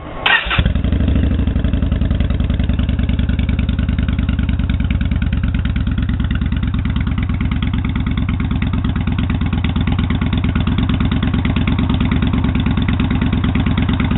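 A 2014 Yamaha Bolt motorcycle with SS Real Deal exhaust pipes, Milwaukee Twins wrap and Chromeworks HP2 baffles fires up and settles into a loud, steady, deep thumping idle, close and alone.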